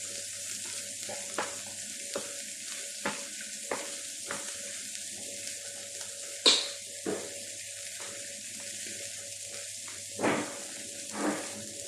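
Coconut oil sizzles quietly in a pan set on the stove for sautéing onions, with a soft steady crackle broken by several sharp stirring clinks and scrapes.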